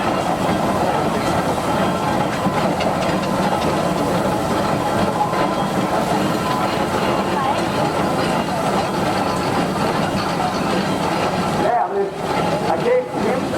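A Charles Burrell and Son heavy-haulage steam traction engine rolls by in a grand parade at a steam rally, a steady rumbling and clanking that stays fairly constant with a few brief dips near the end.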